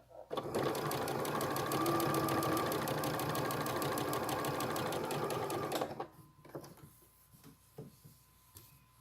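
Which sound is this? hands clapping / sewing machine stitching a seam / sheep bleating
sewing machine stitching a seam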